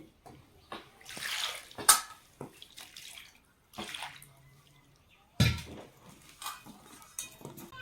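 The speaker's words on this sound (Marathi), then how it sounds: "आता आपण किलोभर लिंब घेतले स्वच्छ पाण्याने आपण धुवून घेऊ" About a kilo of lemons is rinsed in clean water, with splashing and running-water bursts, hollow knocks of fruit against a bowl, and short quiet gaps between rinses, close by and with no talk.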